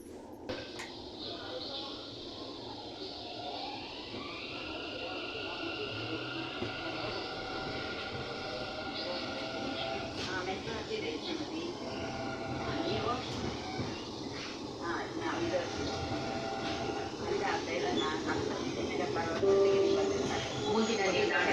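A Bangalore metro train runs between Baiyappanahalli and Sandal Soap Factory stations, heard from inside as a continuous rumbling drone that swells slightly louder toward the end, with faint tonal whines over it.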